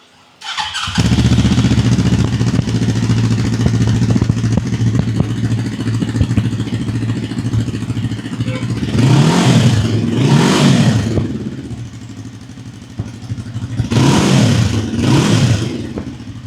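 A Zongshen RE3 dual-cylinder cafe racer motorcycle engine idles loudly up close, then revs sharply several times in bursts, rising and falling, with no talking.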